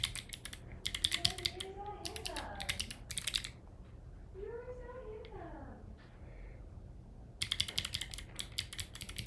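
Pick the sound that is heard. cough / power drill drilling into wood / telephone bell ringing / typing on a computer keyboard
typing on a computer keyboard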